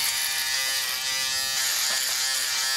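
A blue electric shaver buzzes steadily and fairly loudly for the whole stretch, with a dense continuous hum and no talk over it.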